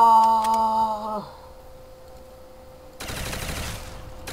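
Gun firing in a zombie shooter video game, a loud burst of rapid shots at the start that cuts out, a quiet pause with a lingering tone, then another dense stretch of rapid fire.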